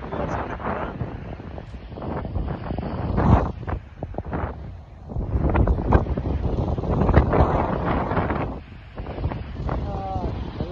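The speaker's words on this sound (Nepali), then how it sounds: "चिसो हावा लाग्यो।" Cold wind buffeting an outdoor microphone, gusting in rough, uneven surges that rise and fall throughout, mixed with a voice speaking intermittently.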